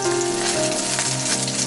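Ivy gourd with onion and dried chillies fries in oil for chutney, giving a short, steady, close sizzle with fine crackling and no talking.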